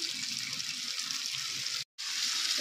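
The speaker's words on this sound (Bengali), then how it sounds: "পরিমাণ মতো জল দিচ্ছি" Water poured from a vessel into a pan of tomato chutney, a steady bright splashing gush that stops abruptly for a moment and then resumes, close and fairly loud.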